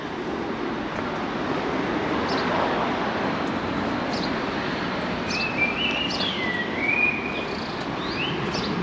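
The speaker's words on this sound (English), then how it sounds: "All the birds from the trees, which have been quite in song today." Birds sing and chirp in the trees along a road near Magaluf, Mallorca, with scattered clear calls set against a constant wash of distant road noise and insect-like hiss.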